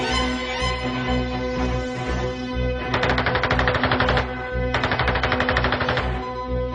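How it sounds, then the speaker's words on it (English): Sukhoi ShKAS machine guns on a Polikarpov E-16 fighter firing at about 1,800 rounds per minute: two loud bursts of rapid, dense gunfire over a steady engine drone, each lasting over a second. "E-16 was armed with 2 Sukhoi machine guns."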